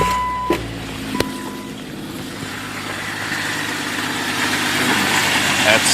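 An onboard air compressor in a red Jeep XJ runs and builds pressure to fill a flat tire, a steady mechanical hum that starts after a couple of clicks and grows slightly louder, close and alone.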